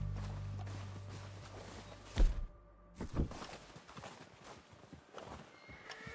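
Horses approaching in Red Dead Redemption 2, fairly quiet: scattered hoof clip-clops and thuds with a short whinny, heard alone without talk.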